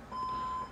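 An alarm gives a single steady electronic beep lasting about half a second, thin and fairly faint against a low background hiss.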